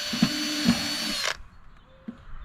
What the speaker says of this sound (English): My drill's getting kind of wore out